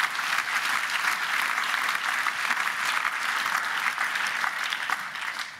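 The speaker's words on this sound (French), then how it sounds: "On peut vous applaudir" Audience at a round-table panel at a Neuchâtel forum applauds a speaker, a steady, full wash of many clapping hands from a seated crowd, continuous and even before easing off at the end.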